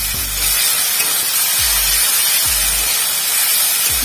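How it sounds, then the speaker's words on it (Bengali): A garlic, onion and chili paste masala fries in hot oil with a steady, loud sizzle and hiss throughout, broken by a few low knocks of a spoon against the pan; no voices. "পেঁয়াজ বাটা আর লঙ্কা কিছু দিয়ে ভালো করে মশলাটা কষিয়ে নেবো"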